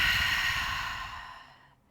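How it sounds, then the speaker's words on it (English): A slow exhale during a guided breathing exercise, a single soft breathy rush of air that gradually fades out over about two seconds, close and quiet with no talking. "Breathe out."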